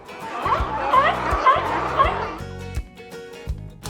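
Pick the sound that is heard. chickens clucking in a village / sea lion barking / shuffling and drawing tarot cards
sea lion barking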